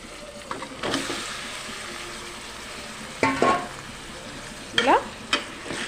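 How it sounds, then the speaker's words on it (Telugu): Marinated chicken and fried onions sizzling steadily in a pan, with a few louder scraping stirs breaking through the continuous hiss; no talking. "ఇప్పుడు మనం మ్యాగ్నైట్ చేసి పెట్టుకున్న చికెన్ వేసేద్దామండి"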